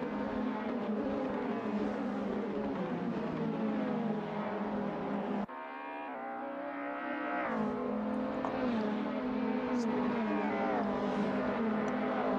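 Race cars on the Dijon-Prenois circuit take a corner, one after another, their engines droning loud and steady, with a sharp shift in pitch midway as one car passes and the next engine note rises behind it.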